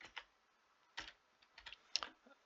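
A few scattered computer keyboard keystrokes, faint and close, with irregular gaps between taps around a quiet room tone; the final strokes land in a quick cluster.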